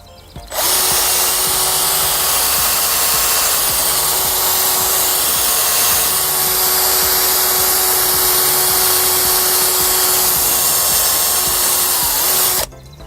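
A power tool polishes the valves of an LS1/LT1/SBC cylinder head, a steady, loud, continuous whine running unbroken for about twelve seconds before cutting off.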